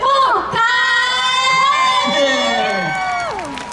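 Loud, continuous crowd cheering and shouting at a New Year's Eve concert held at a temple in Kaohsiung, with voices rising and falling together throughout.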